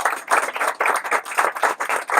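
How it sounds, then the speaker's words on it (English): Steady applause from an indoor audience at a groundbreaking ceremony, many hands clapping in a dense, even roar that holds throughout without any voices. "let's all stand and give a big round of applause to all of our partners"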